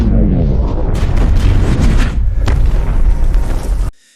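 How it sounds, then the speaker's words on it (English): The Jericho missile detonates in a desert weapons demonstration, a loud, close, rumbling blast that roars on for nearly four seconds before cutting off sharply. "In the middle of the desert, Tony showcases his masterpiece, the Jericho missile."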